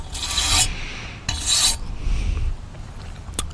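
A wire brush scrubs a carbon steel surface before welding, making two loud, harsh rasping strokes up close, then quieter scraping and a short sharp tick at the end, with no talking.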